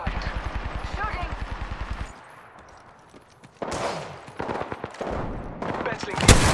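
Rapid automatic gunfire bursts in the battle royale game Apex Legends, a dense rhythmic stream of shots followed by a lull and then more scattered, louder bursts, with game audio and voices around it.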